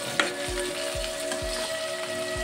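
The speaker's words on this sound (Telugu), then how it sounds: "ఇలా ఫ్రై అవుతుంది." Mushrooms frying in a pan, a continuous close sizzle with a low background hum and a few soft rhythmic thumps, and no voices.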